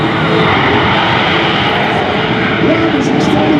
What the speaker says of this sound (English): as Hayden lights the stacks, and very shortly he's going to light the afterburners too